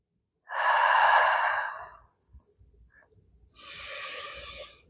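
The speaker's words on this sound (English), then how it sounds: "in this position, you're going to take deep breaths into it." Deep, slow breaths taken while holding a standing glute medius isometric exercise: a long, loud, close exhale, a short pause with faint rustling, then a second softer breath.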